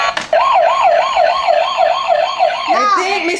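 A battery-powered bump-and-go toy police motorcycle blares a loud, close electronic wailing siren that rises and falls in steady rapid cycles, then shifts to a different warbling tone near the end.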